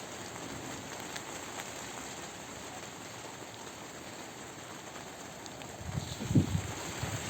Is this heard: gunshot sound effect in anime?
no